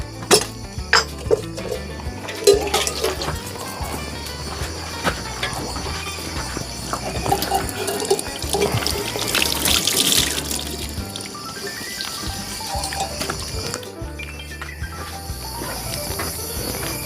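Tap water runs into a pot in a home kitchen, a steady splashing stream with occasional clinks of dishes and cutlery, a louder rush midway before it settles.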